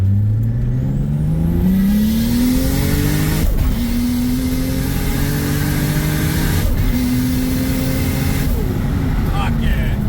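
A Toyota Supra accelerates hard through the gears, its engine note climbing steadily and then dropping briefly at each shift, heard loud from inside the car with someone talking over it.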